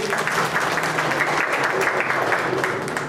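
An audience applauds to welcome Union minister Nimuben Bambhaniya, with continuous, fairly close clapping from many hands that holds at an even level throughout.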